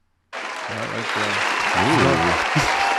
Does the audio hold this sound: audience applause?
yes